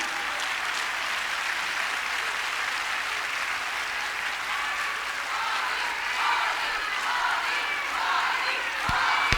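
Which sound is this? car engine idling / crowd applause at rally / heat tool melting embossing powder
crowd applause at rally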